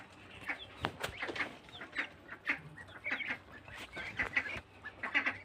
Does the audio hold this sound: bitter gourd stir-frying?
no